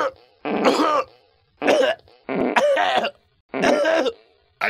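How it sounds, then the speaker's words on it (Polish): Five harsh, raspy coughs come in separate bursts with short silent gaps between them, close and loud, with no talking. "Ale mnie kaszel złapał."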